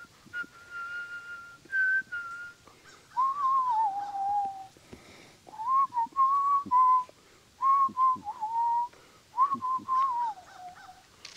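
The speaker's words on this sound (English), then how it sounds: "Whistling." A person whistles a wavering, tuneful melody in short phrases separated by brief pauses, fairly close and clear with no talking, outdoors on a hot fall day.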